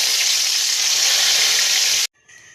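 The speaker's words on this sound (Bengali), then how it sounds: "কড়াতে ঘি দিয়ে জিরে শুকনো লঙ্কা তেজপাতা আর হিং ফোড়ন দিচ্ছি।" Ghee sizzles loudly and steadily as cumin, dried chilli, bay leaf and asafoetida fry in a kadai, a dense hiss that cuts off abruptly near the end, leaving a softer crackle.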